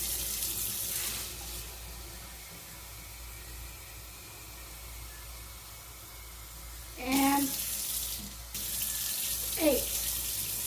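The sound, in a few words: tap water filling cups for cooking black beans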